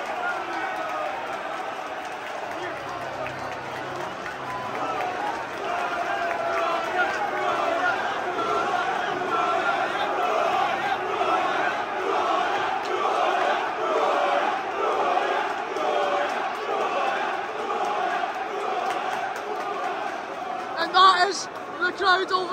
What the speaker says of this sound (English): The crowd over a disallowed goal.